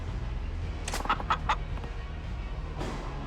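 Chicken clucking in the video game Yakuza 0, a quick burst of several sharp clucks in the middle, then a lone cluck near the end, over steady background game noise.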